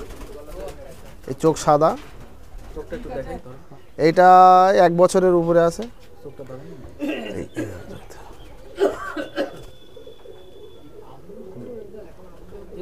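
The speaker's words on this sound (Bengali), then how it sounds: "যে পায়রাটা দেখছেন এটা হচ্ছে কালশিরা পায়রা" A Kalshira pigeon of the Geruya line, over a year old and kept in a Madrasi highflyer loft, coos in low, throaty bursts nearby while someone talks in between.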